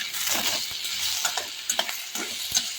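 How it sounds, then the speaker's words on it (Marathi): Chopped potatoes sautéing in a pan, a steady close sizzle broken by irregular scraping and clinking as they are stirred, no voices. "आपण इथे कापले चिरलेले बटाटे परतवण्यासाठी घातलेले आहेत"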